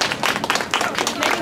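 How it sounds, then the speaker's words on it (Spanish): A small group at a talk claps briefly and unevenly, close and fairly loud, with distinct individual hand claps in bursts over a short stretch and a hint of murmuring voices. "Un aplauso"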